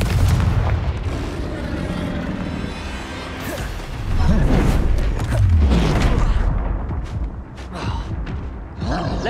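Confringo fire spell blasts in Hogwarts Legacy, a run of loud booming explosions and crashing impacts with game effects layered over each other, with a voice calling out partway through.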